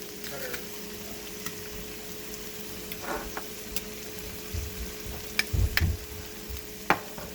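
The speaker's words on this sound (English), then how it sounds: "We're going to let that fry up in the center here just a little bit with a little bit of oil." Garlic fries in a little oil in a pan with a soft, continuous sizzle under a low steady hum, punctuated by occasional light utensil taps and a couple of louder knocks.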